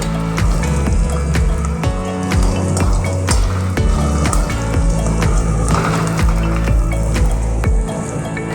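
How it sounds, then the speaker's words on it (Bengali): Slit green chillies frying in a pan of oil, a loud close sizzle with dense crackles and pops, continuing steadily under faint clinks. "কাঁচা লঙ্কা লম্বা লম্বা করে চিড়ে নিয়েছি ভালো করে এগুলোকে ভেজে নেব"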